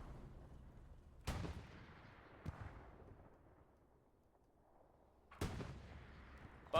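Tank cannon shots boom in a video game match, two sharp loud blasts several seconds apart with a lighter crack between, each trailing off into a quiet rumbling battlefield, with no talk over them.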